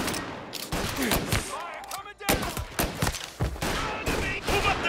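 Gunfire in the video game Mafia Definitive Edition, a dense volley of loud, sharp shots fired in rapid bursts with a short lull partway through, under occasional talk.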